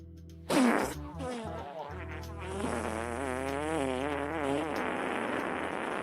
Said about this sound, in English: Here, guys, I will manually trip the fart bot for you.